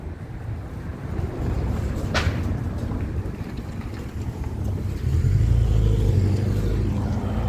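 A Porsche drives past on an outdoor stroll, heard as a steady broadband road rumble with wind buffeting the microphone, swelling louder toward the end as it nears; no one speaks.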